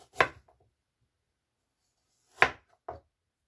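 Knife slicing the skin off a short nub of fresh ginger root, heard as two or three crisp, close cuts separated by a long silent gap.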